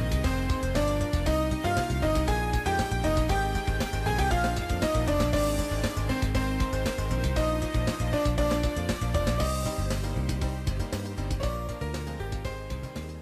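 Ace Attorney game music track with a thin bass line that has its low end rolled off, a dense, steady loud mix of melody and accompaniment playing continuously with no talking.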